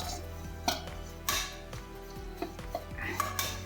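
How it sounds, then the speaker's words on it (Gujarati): Grated coconut is lightly fried in a little ghee in a hot pan, with quiet scraping and clinks of a spoon against metal at an uneven pace and a faint sizzle underneath. "એ ઘીમાં જ આપણે આ ટોપરાના છીણને સેજ ગરમ કરીને નવશેકું તળવાનું છે"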